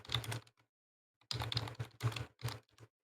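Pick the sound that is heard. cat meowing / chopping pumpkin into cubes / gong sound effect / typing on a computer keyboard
typing on a computer keyboard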